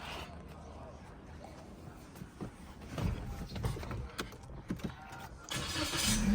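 A Toyota Yaris Ativ 1.2-litre petrol engine cranks and catches, rising into a rough idle, with a voice talking over the start.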